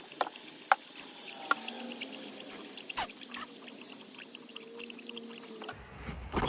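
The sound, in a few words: pouring radiator fluid into a car radiator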